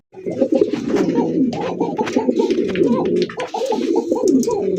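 Several pigeons of a fancy coloured breed coo close by in overlapping, throaty rolling calls, repeating steadily without pause, at a pigeon farm.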